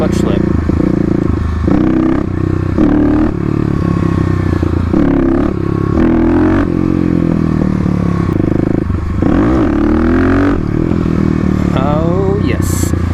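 A Stage 3 Kawasaki KLX351 dirt bike with stiffer clutch springs rides through city streets, its engine droning close and loud with rising and falling revs and occasional clatter, while a voice talks over it.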